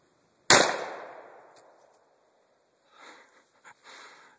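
A single loud 20 gauge shotgun blast cracks out at a shooting range and decays over about a second, followed after a pause by brief faint shuffling noises.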